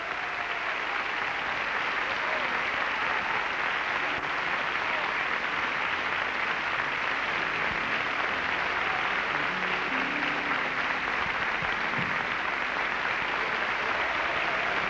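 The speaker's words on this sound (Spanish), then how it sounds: "este aplauso cariñosísimo del público que esta noche está con nosotros" Warm audience applause in a theatre during a tribute evening, a dense, continuous wash of clapping that holds steady throughout at full strength.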